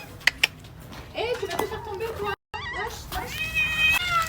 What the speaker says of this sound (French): je dois nourrir les chats du quartier